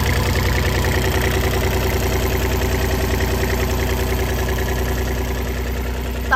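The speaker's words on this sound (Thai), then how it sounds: "คันนี้จะเป็นคูโบต้า3สูบนะคะ" A Kubota three-cylinder diesel idles steadily on a Sakai TW352 three-ton road roller, a close, even, slightly knocking drone that stays constant throughout.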